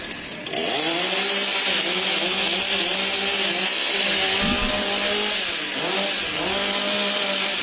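Several chainsaws roar together at a timbersports competition, loud and steady with pitch sweeps as engines rev up and bog down in the timber, no voices over the noise.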